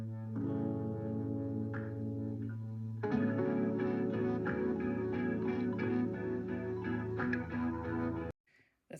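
Guitar and drum cover of the chorus of a song, steady distorted guitar chords with chorus and echo effects over a driving drum beat, loud and continuous, with no talking, ending abruptly.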